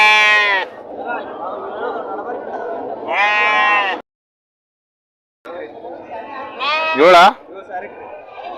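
Lambs and sheep bleat loudly at a weekly Tuesday morning sheep and goat market in Kerur, with several wavering cries in bursts, one sharp close call near the end, and a brief silent gap; people talk nearby.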